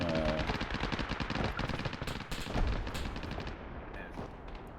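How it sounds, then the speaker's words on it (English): Gunfire rings out in a town during a night operation in the video game Arma 3, with dense rapid bursts and single shots, some sounding distant, over several seconds. "I think it's also just the shots in town."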